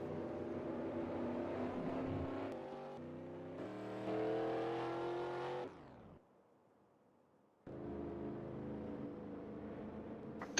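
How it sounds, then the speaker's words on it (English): Stock cars in a Winston Cup racing video game at California, engines droning and revving with abrupt shifts in pitch as gears change, a brief near-silent gap midway before the roar resumes. "You're going to hear a lot of clutching all around this track right now"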